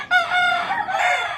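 A Raptor Sweater rooster crows once, loud and close, a single sustained call rising then tapering over about a second and a half.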